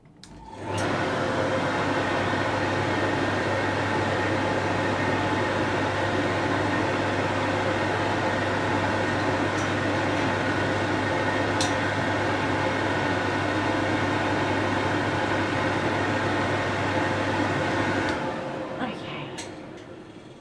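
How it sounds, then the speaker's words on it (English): A hair dryer used for dog grooming roars steadily and loudly for about seventeen seconds, then cuts off, leaving quieter room sound. "Sorry about the noise real quick with the dryer."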